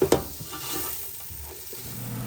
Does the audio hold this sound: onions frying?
yes